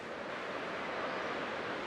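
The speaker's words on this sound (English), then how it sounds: "I can still clearly hear the sound of the waves" Ocean waves wash steadily in the video game Honkai Star Rail, a soft continuous surf hiss with a faint wind-like rush, fairly quiet and unbroken, with no voices.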